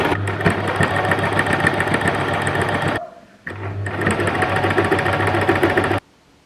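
A home sewing machine runs steadily as it stitches along fabric edges, a loud continuous whir that pauses briefly midway and then resumes before stopping.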